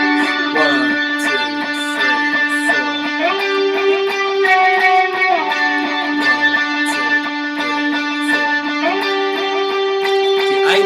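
A distorted electric guitar plays a sustained, gritty riff with repeating picked notes that drone and build steadily, loud and alone without any voice.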